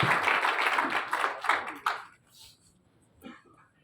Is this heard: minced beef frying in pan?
no